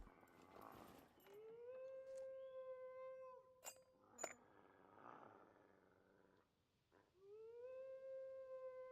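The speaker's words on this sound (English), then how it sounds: "there is a wolf close by" Wolves howling in the Scum survival video game, long tonal howls rising and holding, one after another, with a second howl later, over faint ambient noise and a few sharp clicks.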